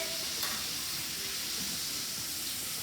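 Chicken sizzles steadily in butter in a hot pan, a dense and fairly loud crackling hiss, with a brief knock as a piece is flipped and the butter moved around.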